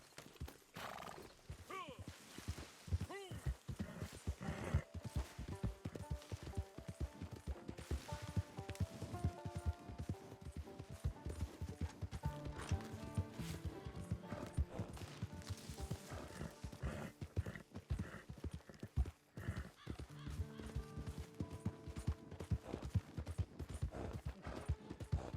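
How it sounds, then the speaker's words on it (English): Horse hooves clip-clopping steadily while riding in Red Dead Redemption Online, with occasional neighs and whinnies, all set against game music and a voice talking throughout. "Y este caballo no ayuda mucho. Se cansa demasiado rápido."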